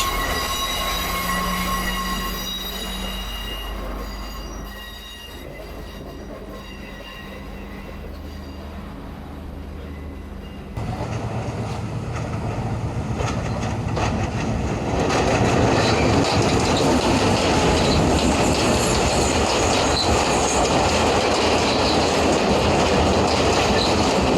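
A train in Sri Lanka rumbles steadily along the tracks, with metallic wheel squeal early on, and the clatter grows louder and rougher as it picks up.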